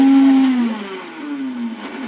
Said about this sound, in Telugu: మిక్సీలో వేసుకొని